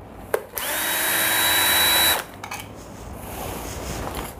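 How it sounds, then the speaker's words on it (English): A cordless electric screwdriver whirs in one sustained burst of about a second and a half while backing screws out of a two-gang light switch, followed by quieter clicks and handling. "come in with your cordless or electric screwdriver and start taking out the"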